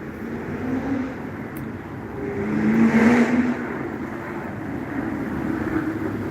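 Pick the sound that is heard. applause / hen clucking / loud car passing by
loud car passing by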